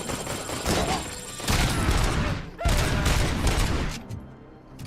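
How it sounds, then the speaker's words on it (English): RoboCop video game burst-fire handgun shots: dense, loud volleys of rapid gunfire and heavy thuds roll on almost without pause, briefly dipping near the middle and fading toward the end. "The burst fire handgun."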